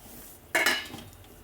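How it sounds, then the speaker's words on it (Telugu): Ivy gourd (dondakaya) cooks in a pan, heard as a sudden metallic clank of a utensil against the pan, followed by a brief hissing sizzle that quickly fades, with no voices. "ఉడుకుతుంది దొండకాయ"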